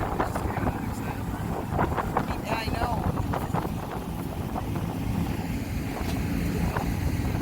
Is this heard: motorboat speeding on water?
yes